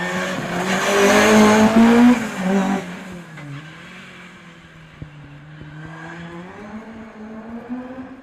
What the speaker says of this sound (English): Callum Jaffrey's sound still very low. Just listen